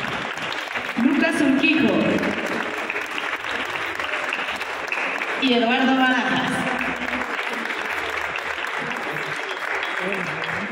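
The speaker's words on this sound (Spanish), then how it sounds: "Un fuerte aplauso para todo el elenco" A crowd applauds the cast of the telenovela El Amor Invencible at a press presentation, with continuous broadband clapping throughout while a presenter's voice announces names over it.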